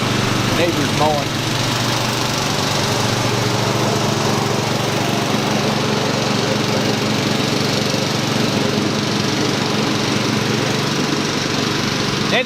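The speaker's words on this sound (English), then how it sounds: "neighbor's mowing" A neighbor's lawn mower drones steadily through the whole stretch, a constant buzzing engine hum at moderate distance, with a voice briefly heard over it.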